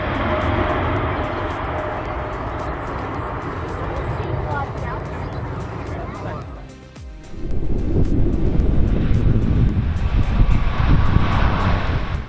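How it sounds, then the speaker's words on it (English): A Boeing C-17 military transport jet flying low over treetops gives a loud, sustained engine roar that dips briefly mid-way, then surges back louder and broader as it passes close by. "the C-17 roared by just above the treetops, so low it felt like you could reach out and touch the fuselage"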